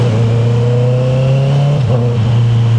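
A stock-exhaust Honda CB650R inline-four motorcycle engine hums steadily up close, holding a smooth, loud drone before easing off briefly near the end and settling again, with no talk over it.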